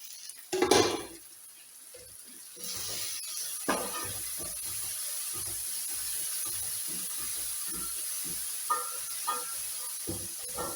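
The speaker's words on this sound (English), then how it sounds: "on this other pan, I'm steaming the carrots and the broccoli." Carrots and broccoli steaming in a covered pan on a stove, a constant soft hiss with scattered clinks and knocks of pots and utensils nearby.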